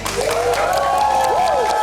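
An audience applauds Om Indro, a comedy legend, at a live comedy talk show. The clapping is steady and fairly loud and fills the whole stretch, with music tones sweeping over it.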